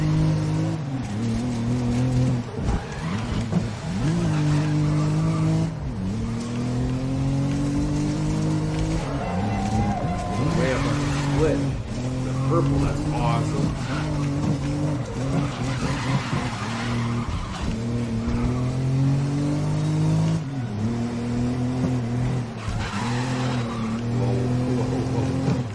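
Modified race cars driving in GRID 2019 on a rainy track, engines droning and rising in pitch through the gears with tire skids and squeals, loud and continuous, with faint talk underneath.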